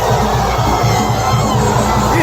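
Corinthians fans crammed into a bar in Belo Horizonte chant together in a loud, rhythmic, pulsing crowd roar that never lets up for the short stretch.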